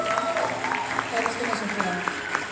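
An audience at a talk on entrepreneurship claps for a speaker in steady, evenly spaced hand claps of moderate loudness.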